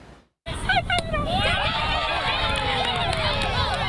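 Kids at baseball practice shout and cheer in a lively, overlapping crowd of young voices after a brief silence, continuing loud and busy throughout.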